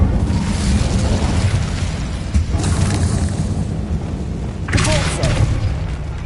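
Incendio fire spell cast in the video game Hogwarts Legacy: loud booming, roaring blasts over a constant low rumble, with a bright burst near the middle and another strong one near the end.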